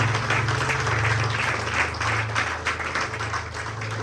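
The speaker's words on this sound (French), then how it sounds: "Acclame encore pour ton Jésus." A church congregation claps and cheers in praise, sustained dense applause filling the room steadily for several seconds over a low hum.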